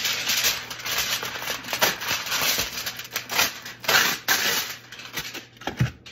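Aluminum foil crinkles and crackles as it is torn and pressed over a pan used for fries, a dense run of close, bright rustling bursts with no one speaking.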